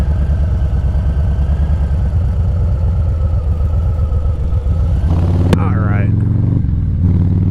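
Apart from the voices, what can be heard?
motorcycle engine idling and revving before a ride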